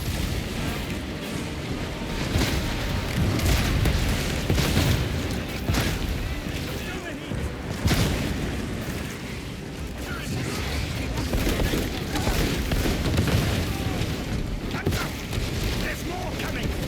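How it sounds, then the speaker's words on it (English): Grenade blast in the Space Marine 2 video game, amid a dense, roaring wash of battle noise with booming impacts and rumbling gunfire, loud and sustained, with no clear single detonation standing out. "Look at that grenade going in."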